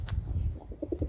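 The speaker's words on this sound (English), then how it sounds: "the pigeon's the perfect creature, sentient being" A pet pigeon gives soft, low cooing notes, several short throaty coos in quick succession near the end, close by over quiet indoor background.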